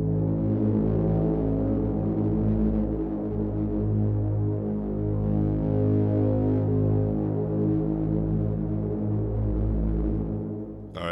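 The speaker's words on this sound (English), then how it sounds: "let me play this, and you'll hear it change the distortion" An Omnisphere synth holds a sustained, droning tone whose distortion shifts subtly over about eleven seconds, a rich steady buzz that fades at the end.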